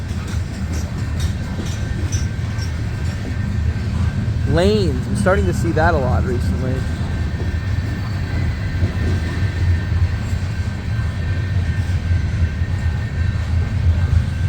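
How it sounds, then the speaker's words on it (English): A CSX coal train hauling coal hoppers rolls past at night, a continuous low rumble of wagons filling the scene while someone talks over it. "a lot of these coal hoppers were on the previous coal trains that have been passing"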